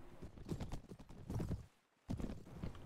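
Horse hooves clatter in rapid clip-clop bursts during mounted combat in the Mount & Blade Warband video game, with a brief pause before the galloping beats resume, moderately quiet and with no speech.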